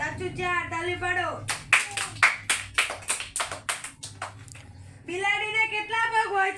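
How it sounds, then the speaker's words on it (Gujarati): A group of children claps in a classroom during a comedy skit, a burst of sharp, fairly even handclaps that rises and fades, with voices speaking or singing before and after it. "તાલી પાડો."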